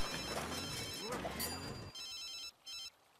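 A telephone bell rings in two short bursts with a brief gap between them, right after people finish talking, then the line falls quiet.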